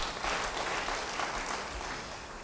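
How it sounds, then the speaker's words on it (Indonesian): Audience applause at a church sermon, a steady wash of clapping from a congregation, sustained and fairly even for a couple of seconds before tapering slightly. "Yang mau beri tepuk tangan bagi dia."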